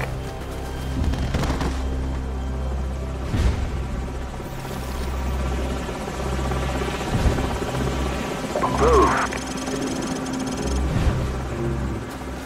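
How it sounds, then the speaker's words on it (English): A helicopter's rotor chops and drones steadily throughout in the video game Call of Duty 4: Modern Warfare, with scattered thuds and bursts of gunfire-like cracks layered on top. "Enemy helicopters."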